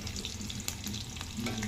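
Green chillies hit a pan of frying fish eggs, giving a soft continuous sizzle with faint stirring scrapes, fairly quiet and close.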